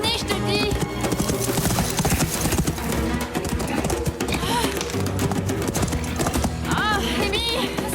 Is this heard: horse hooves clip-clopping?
yes